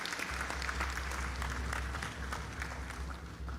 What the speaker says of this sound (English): He deserves a round of applause here.